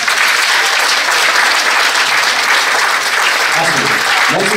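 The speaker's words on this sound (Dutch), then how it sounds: "een tafel met applaus verdienen" Sustained, loud applause from an audience at the Mrs Universe Belgium event, dense and steady throughout, with faint voices emerging near the end.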